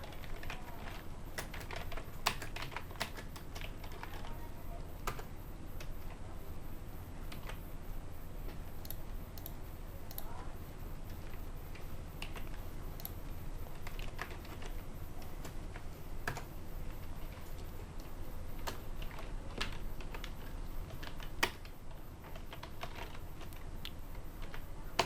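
Typing text into a text box in a Publisher document on a computer keyboard: soft, irregular key clicks tapping steadily over a long stretch, quiet and close, with no voices.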